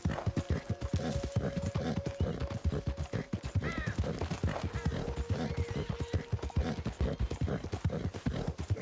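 In the video game Red Dead Redemption 2, a horse's hooves beat in a steady, rapid clip-clop, loud and close, with a brief whinny partway through.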